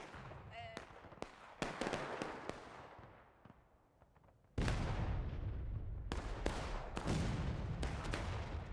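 Scattered sharp musket cracks echo across a Civil War battlefield in the game War of Rights, some distant and some close, with a heavier volley of shots and rumbling reports in the second half and voices faintly beneath.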